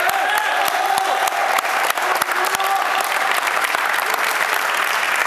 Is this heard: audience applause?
yes